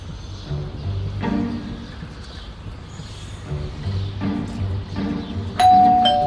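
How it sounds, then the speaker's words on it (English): A doorbell chimes several times in a close, quiet room, with short ding-dong tones spaced a second or two apart and a sharper, louder ring at the end. "That stupid bell again."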